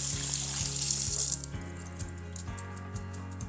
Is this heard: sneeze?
no